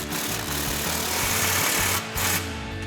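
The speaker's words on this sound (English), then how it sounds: "we're gonna grab our impact and 15mm socket, tighten that down" A cordless impact wrench with a 15mm socket hammers an exhaust clamp tight on a 2024 Toyota Tacoma, a loud, continuous rattling burst close up that stops briefly near the end and resumes.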